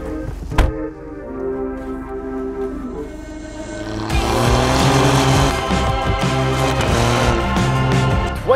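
A 2020 Alfa Romeo Giulia Quadrifoglio launches without launch control, its engine note swelling loudly from a steady idle into a hard, rising acceleration that stays close and strong to the end.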